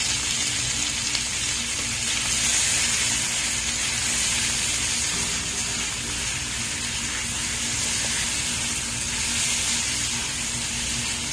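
Chopped onion sizzles in a hot frying pan as stew for brown stew fish in shrimp sauce gets started at home, a steady close hiss and crackle running unbroken throughout with no talking.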